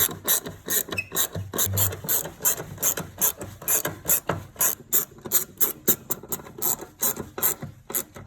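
Hand ratchet tightening the bolts of an AEM 340 high-flow fuel pump being installed in a Subaru STI, a rapid steady run of close, crisp clicks in short rhythmic strokes, with no talk.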